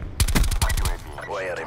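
An MX9 submachine gun in Black Ops 4 fires a quick burst of about eight rapid shots, loud and close, then stops, followed by a short stretch of game voice or effects.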